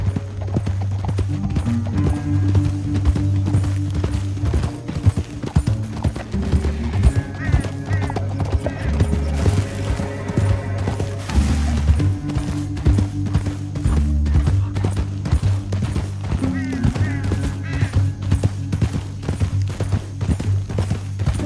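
Horse hooves clip-clop in a fast, continuous galloping rhythm over a droning music bed, with occasional voices mixed in, from the video game Red Dead Redemption 2.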